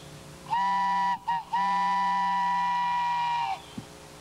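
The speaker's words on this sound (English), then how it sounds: "Wooden train whistle." A wooden train whistle blown in one long, steady multi-tone chord with a brief break near the start, loud and close.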